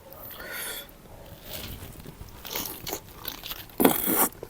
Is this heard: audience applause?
no